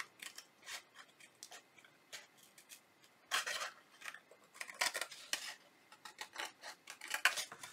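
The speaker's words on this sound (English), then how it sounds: "now then we cut this excess on this one the same way all the way around." Scissors snip through excess cardstock while trimming a tombstone treat box, a series of quiet, close, crisp cuts at an irregular pace with brief pauses between strokes.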